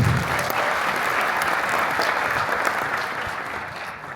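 An audience applauds at a film launch ceremony, sustained dense clapping that is loudest at the start and slowly tapers, with no voices over it.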